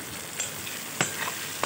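Sliced onions fry in a pan for a snakehead fish kalia, giving a quiet, steady sizzle broken by a few sharp clicks from stirring.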